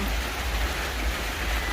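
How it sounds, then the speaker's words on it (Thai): Steady rain falls on a vegetable garden, a dense, even hiss of drops that fills the space at a constant level with no speech. "ฝนตกค่ะพี่น้อง"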